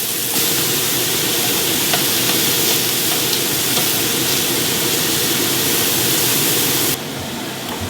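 About 1.5 pounds of onions browning in a pan give off a loud, steady, hissing sizzle that continues evenly, then drops off abruptly near the end.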